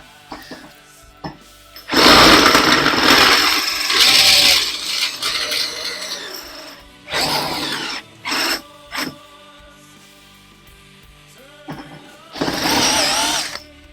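Parkside 12V cordless drill driving an 8 mm bit through material, loud whining bursts of drilling that start and stop several times, with a long run followed by shorter pulses and a final burst.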